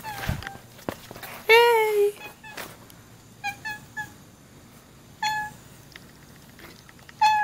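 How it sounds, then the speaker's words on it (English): A neighborhood cat outdoors gives several clear meows: one long, drawn-out call followed by shorter, spaced cries, fairly close and loud over quiet background noise. "She's a neighborhood cat."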